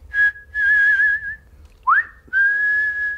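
A person whistles short musical notes: a held steady tone, a quick upward-sliding note, then another sustained pitch, clear and close with small gaps between phrases.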